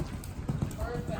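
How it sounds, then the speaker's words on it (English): A horse cantering during a jumping lesson, a rhythmic clip-clop of hooves on the ground, fairly near and partly under talking. "And this is the horse cantering, already a little out of control."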